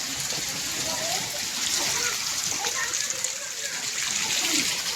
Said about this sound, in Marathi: अरे खूप मोठा वॉटरफॉल आहे रे.